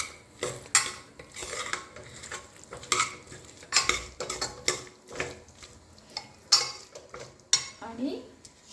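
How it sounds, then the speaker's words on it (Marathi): Kasuri methi is mixed into spiced rice with peas and potato in a pan, a spoon scraping and clinking against the metal in repeated strokes over a faint sizzle, close and without talk. "कस्तुरी मेथी टाकायची राहिली होती, ती आपण आता टाकून घेऊयात आणि पुन्हा एकजीव करू."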